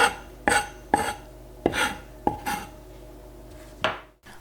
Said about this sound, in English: I'm picking the leaves from some lemon thyme. This is a really fragrant herb, which I'm chopping with my mezzaluna